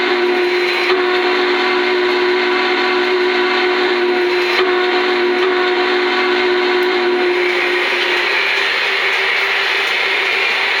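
An O scale model train runs with its horn sounding, a steady loud tonal blare held over continuous running rumble for the whole stretch, close and without talk.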